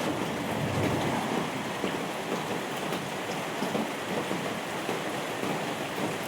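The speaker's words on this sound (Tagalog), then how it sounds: "Yung ulan po, humihina, maya-maya, lalakas, mamaya, hina naman." Steady rain falls and patters on surfaces, a dense continuous hiss with no voices.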